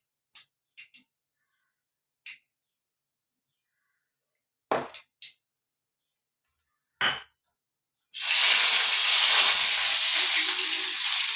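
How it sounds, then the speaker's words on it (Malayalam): Sliced onions dropped into hot oil with fennel seeds set off a sudden loud, steady sizzle that fills the last few seconds, following several brief clicks and clatters in an otherwise quiet kitchen. "നമുക്ക് സവാള ഇട്ടാം"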